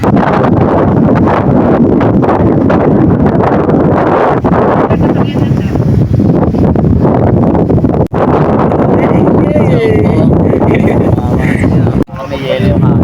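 Cold, icy wind at a hilltop cafe in Binangonan, Rizal buffets the microphone as a loud, continuous rumbling roar that barely lets up for the whole stretch.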